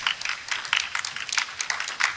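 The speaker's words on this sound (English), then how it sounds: "That's not even golf applause." Sparse, scattered audience applause from a few people in a studio crowd, thin, light clapping that never builds into a full ovation, heard on its own without talking.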